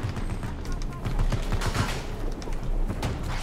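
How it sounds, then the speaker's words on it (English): Bursts of automatic gunfire and firefights in the Battlefield 2042 video game, with an M5 build in play and a tank nearby; rapid shots crackle continuously at close range while a player talks over the battle. "now I'm getting shot from behind"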